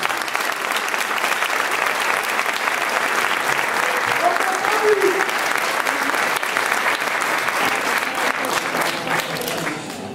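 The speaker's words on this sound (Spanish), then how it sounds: "vull un fort aplaus" A festival crowd at Fester 2016 in Novelda claps loudly and continuously, a dense wash of applause that holds steady for about ten seconds before easing slightly at the end.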